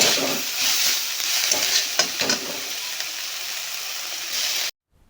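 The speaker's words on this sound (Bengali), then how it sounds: "এবার ফুলগুলিকে ভালো করে ভাজতে হবে একসঙ্গে।" Drumstick (sajane) flowers fry in a pan with salt and a little sugar, a close, bright sizzle broken by repeated spatula scrapes and clacks as they are stirred, then cutting off abruptly to silence.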